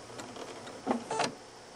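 A sewing machine takes a few stitches in place with the needle held down, giving a faint, quick burst of mechanical whirring and clicking in a quiet room.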